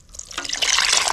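Fresh watermelon juice is poured into a glass, a short splashing, gurgling stream of liquid rising quickly and continuing close and clear.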